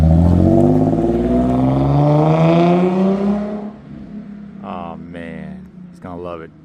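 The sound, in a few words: loud car driving away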